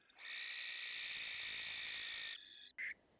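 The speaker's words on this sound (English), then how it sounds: "for such a beautiful bird, the barn owl call is rather haunting." A barn owl gives a screech call: one long, harsh, hissing shriek lasting about two seconds, followed by a brief shorter rasping note.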